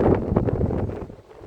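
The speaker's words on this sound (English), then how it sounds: "Oh, it's too windy up there" Wind buffets a microphone held out a window along the Jacksonville riverwalk, a loud, continuous low rumble with gusty swells that eases off near the end.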